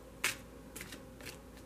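Tarot cards being shuffled: a faint, close riffle with one brief sharp flutter, followed by a couple of softer sliding bursts in a quiet room.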